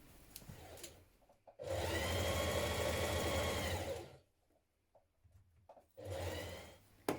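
A sewing machine stitches a dress facing into place in one steady two-and-a-half-second burst of fast motor whir and needle chatter, close by, with quieter handling noises before and after.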